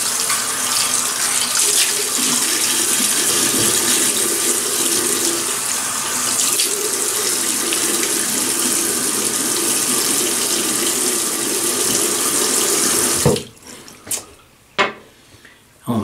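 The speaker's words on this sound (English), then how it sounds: "So, I have about 5 days growth here, so let me wet the face." A bathroom tap runs loudly and steadily while the face is wetted before a shave, then shuts off, leaving a few short splashes and drips.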